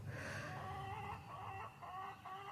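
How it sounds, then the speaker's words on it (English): Baby chickens cluck and peep in short repeated calls, fairly faint, with no talking. "the baby chickens keep coming out because they want food and they want drink"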